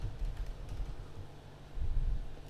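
Keys on a computer keyboard are tapped in short, soft bursts of clicks, faint and close, with no talking.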